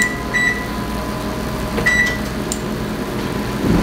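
An oven control panel gives two short, clear electronic beeps about one and a half seconds apart as the temperature is lowered from 450 to 425 while toasting flour for a boeuf bourguignon roux, over a faint steady kitchen hum.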